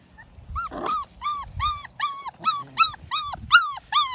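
Four-week-old giant farm and ranch stock dog puppies yelp and whine in a rapid, regular series of close, high-pitched cries, with soft rustling underneath.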